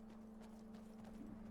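Faint, quick clip-clop of horse hooves while riding in Skyrim, a soft rhythmic trotting patter heard alone against a low steady hum.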